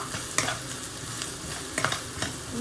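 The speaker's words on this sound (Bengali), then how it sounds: "একটা ম্যাগি কিউব থইছি আর কিটা জোরে কিটা ও পনির দিয়ে আগে ফ্রাই করছি তেলের মাঝে দিয়া" Paneer fries in oil with onions and a crumbled Maggi cube for chilli paneer, giving a loud, dense sizzle. Several sharp spatula scrapes stand out, one early and a cluster near the end.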